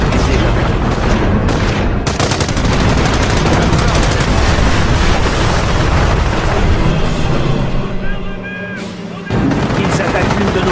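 Dense, continuous gunfire and explosions fill a war film battle scene near a church, loud and sustained almost throughout, briefly thinning toward the end, with shouted voices mixed in.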